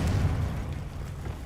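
A deep, muffled boom from a Confringo fire spell in Hogwarts Legacy bursts at the start, then its low rumble slowly fades over a second or so.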